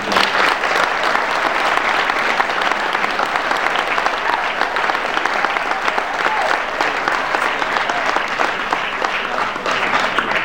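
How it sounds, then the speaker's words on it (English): An audience applauds at a high school spring sports awards ceremony, with dense, steady clapping that fills the room for about ten seconds. "A big round of applause."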